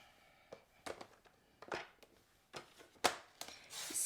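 Scored paper cut for a fan fold card, a few soft, irregular snips and slicing strokes, close and quiet, with no talking.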